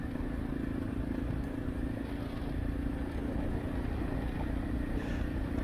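A Honda Dominator motorcycle rides through rush-hour traffic in Sofia, Bulgaria. Its engine hums steadily at low level, mixed with surrounding traffic noise, for several seconds with no speech.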